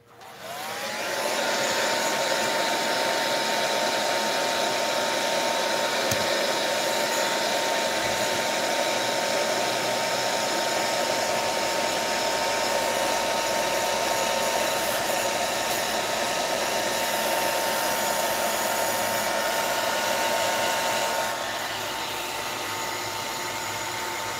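A hair dryer blows steadily on wet watercolor paint, its loud, even whine running continuously for over twenty seconds before dropping slightly in level near the end.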